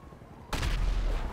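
Tank cannon fired in GTA 5, one sudden loud blast at close range that cuts through quiet background and rolls on as a rumbling tail.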